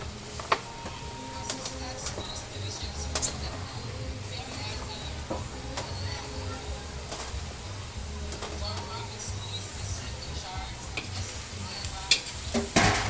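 Chopped cabbage tossed into a pan with oil and cooked chicken for pancit, sizzling steadily while a utensil scrapes and clicks against the pan in irregular strokes, close and continuous.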